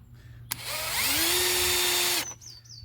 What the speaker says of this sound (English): I actually got a drill, well, quite a few drills, and drilled the stud out.